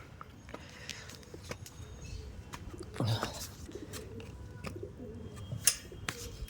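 Pigeons, including a newly caught one, coo in low, repeated throaty calls inside a netted enclosure in the morning, with scattered light chirps and faint rustling around them.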